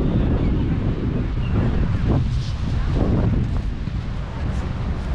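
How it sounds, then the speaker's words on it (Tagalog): Strong wind roars across the microphone at MIA Park in Doha, Qatar, in a continuous loud, rumbling buffet, with faint voices barely audible beneath it. "Lakas ng hangin ha."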